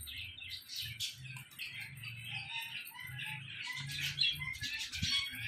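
Doves and pigeons feeding on the ground give soft low cooing and scattered chirps, along with brief flutters, all fairly faint and close, with no voices.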